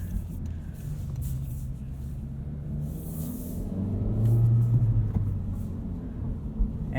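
A 2022 Honda Civic Si engine rumbles low from inside the cabin while driving at night, swelling briefly as it revs before settling back.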